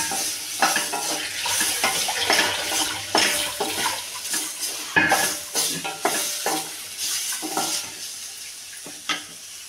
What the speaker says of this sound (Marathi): ह्याच्यात थोडंसं टोमॅटो पुन्हा भाजून घ्यायचं थोडंसं हलक्यात.